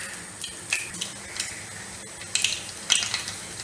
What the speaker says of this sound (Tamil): கடுகு இப்போ நல்லா பொரிய ஆரம்பிச்சிச்சு.